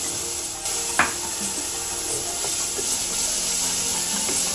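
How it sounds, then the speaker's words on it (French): Soft, steady sizzling and hissing of lardons frying in a saucepan, with a light clink of a utensil early on; no voices. "Dans une casserole, on va faire revenir le lardon"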